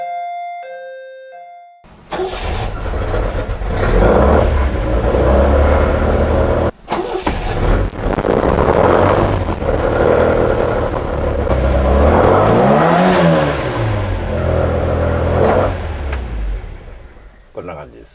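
MGB Le Mans car with a 1800 engine cranks and fires after a brief pause, then runs loudly with several rising and falling revs, including one smooth swell near the end, before settling down.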